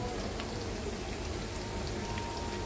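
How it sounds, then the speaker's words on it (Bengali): Potato and flour roll snacks frying in plenty of hot oil, a soft continuous crackle and sizzle, fairly faint and steady, with no talking. "তো বেশি করে তেল দিয়ে এটা ভেজে নিচ্ছে, একবারে হয়ে যাবে।"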